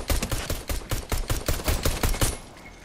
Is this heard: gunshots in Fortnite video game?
yes